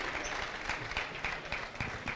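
Applause from a live studio audience welcoming the mayor of Kigali on a Rwandan talk show, a dense, steady wash of clapping with a few sharper individual claps across the whole stretch.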